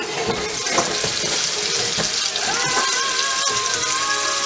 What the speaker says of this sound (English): while that's still browning, y'all, here you go.